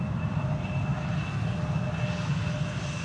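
Wide-body jet aircraft landing at Amsterdam Schiphol Airport, a steady distant engine roar with a low rumble and faint whine, constant and fairly loud throughout, no talk.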